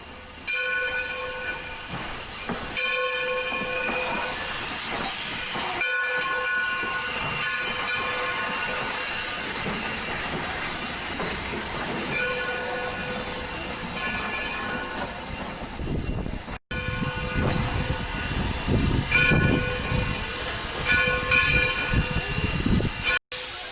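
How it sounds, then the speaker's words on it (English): A four-car passenger train in New Jersey sits at a platform with loud continuous hissing air brakes, metallic squeals and rumbling, ending in a brief burst of heavier noise as it moves; no voices. "The 4-car train has come to a stop"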